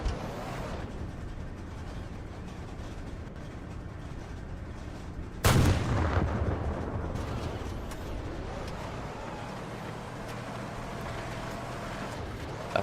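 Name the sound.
machine gun and tank gunfire in a multicrew tank combat video game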